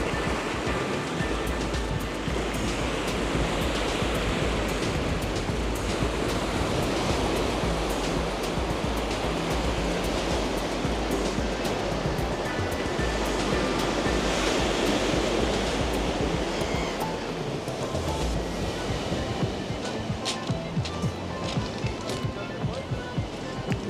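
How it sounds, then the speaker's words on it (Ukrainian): Sea waves wash onto a beach in Odesa with a steady rushing surf and a hiss of breaking water that continues throughout, while a voice talks over it. "Чудовий тут пляж, дуже красиво."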